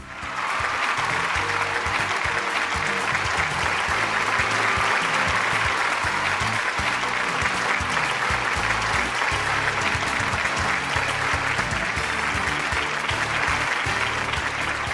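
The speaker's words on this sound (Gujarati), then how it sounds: "તમારી તાળીઓ વાગતી રહેવી જોઈએ" Sustained studio audience applause at a televised show, loud and steady throughout, a dense wash of clapping from a large crowd with no pauses.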